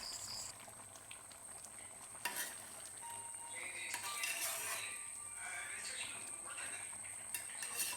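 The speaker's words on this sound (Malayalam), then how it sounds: "കറി നന്നായിട്ട് തിളച്ച് കുറുകി വന്നിട്ടുണ്ട്" Chicken curry boils and thickens in a pot, giving a steady bubbling and sizzling hiss with a few soft clinks of a utensil. No voices are heard.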